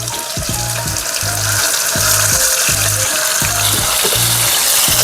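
Chicken pieces sizzle and crackle steadily in hot oil as they fry for chicken karam podi, a loud continuous hiss with a regular rhythmic thumping underneath and no talk.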